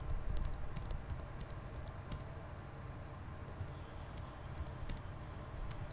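Someone types input for a Python program on a computer keyboard: quiet, close key clicks in irregular bursts with short pauses between them.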